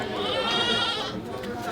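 Goats held in vehicles at a wholesale goat market in Kerala bleat in a steady, wavering cry close by, with people talking over them.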